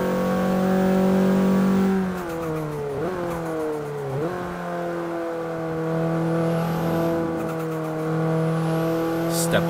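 A race car in Forza 5 accelerating, its engine revving up through several quick gear shifts, loud and continuous, with a voice talking over it partway through.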